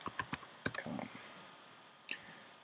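Typing on a computer keyboard at a desk, a quick run of soft, close clicks followed by a short pause and one more keystroke, faint and with no voices.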